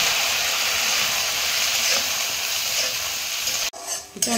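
Spice paste hits hot oil with whole-spice tempering for a vegetarian papaya dalna, setting off a loud, dense, hissing sizzle that runs steadily, then cuts off abruptly near the end, leaving a few soft stirring sounds.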